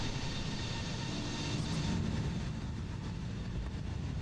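An FBW A320neo airliner zips past in Microsoft Flight Simulator, a steady broadband engine roar with a faint swell and fade partway through.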